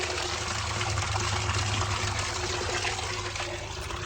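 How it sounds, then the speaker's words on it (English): A waterfall at a wayside rest near Lake Antoine in Michigan's western Upper Peninsula gives a steady, full rush of falling water, loud and constant with no voices. "I truly couldn't resist stopping at a wayside rest with a waterfall."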